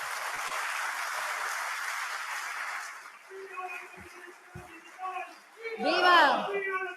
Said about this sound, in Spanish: Recibámosles también con palmas revolucionarias